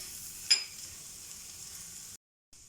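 Green chillies sizzling on a hot tawa while tawa chicken is cooked, a steady close hiss with a brief louder spit as they go in, then a short silence before the frying resumes.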